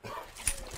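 A dog barks once, played back as a recorded sound for someone to guess. The bark is short and fairly faint against a soft background hiss.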